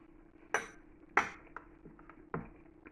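A metal spoon clinks against a dish of coffee semifreddo, four or five light, bright taps spaced irregularly over a quiet background.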